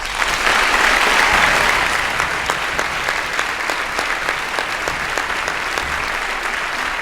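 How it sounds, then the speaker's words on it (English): Full applause from a school Veterans Day assembly honoring Army veterans, a dense, steady wash of clapping across a large hall, holding at an even level without voices. "Please give them a round of applause."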